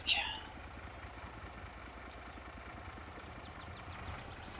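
Yuka vehicle from Farming Simulator 22 idling on a Norwegian farm, a low, steady rumbling engine that stays even throughout, quiet and near, with a brief faint chirp at the start.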